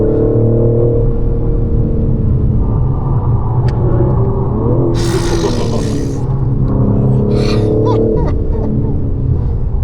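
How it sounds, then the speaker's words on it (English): A BMW M3 Competition drives on the Nordschleife, its engine a loud, continuous droning rumble heard from inside the car, with brief rushing bursts and faint speech. "Oh, this car is crazy."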